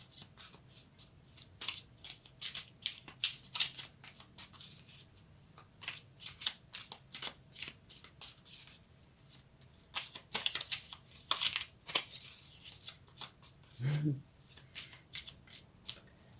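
Tarot cards being shuffled give soft, repeated riffling and flicking bursts in an uneven rhythm, quiet and close, with occasional speech.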